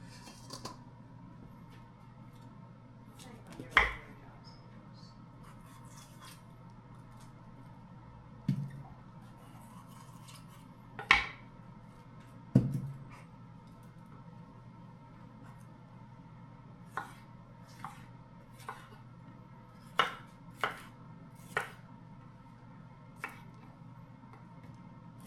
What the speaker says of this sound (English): Okay, I'll finish slicing these.